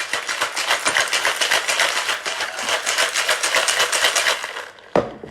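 A cocktail shaker loaded with vodka, triple sec, lime juice and cranberry juice is shaken hard for about five seconds, ice rattling in a fast steady rhythm up close, ending with a sharp knock.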